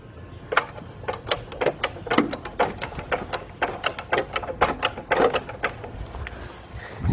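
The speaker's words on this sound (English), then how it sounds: "now I'm going to jack up the engine" Jacking up the engine of a 1999 Nissan Altima during a water pump replacement: a quick run of ratcheting metallic clicks, uneven bursts close by, with no talking.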